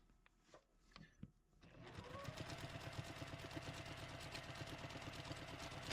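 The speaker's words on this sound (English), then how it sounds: "I'm going to stitch right in that crease all the way down" A sewing machine stitches binding onto a double-sided holiday placemat, its fast, even mechanical chatter starting after a few quiet handling sounds and running steadily and close.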